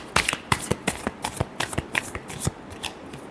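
Close, brisk riffling of a tarot deck as the cards are shuffled, a rapid series of crisp card slaps over about three seconds with no voices.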